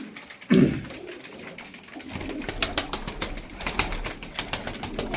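Pigeons coo nearby in soft, repeated throaty calls, with a brief burst of wing flutter early on and rustling movement throughout.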